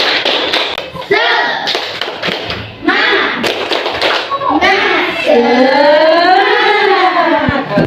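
A primary school class performs a spirit clap routine during a religious studies lesson, with bursts of patterned handclaps and thumps mixed with children's chanting voices that rise into a sustained group shout.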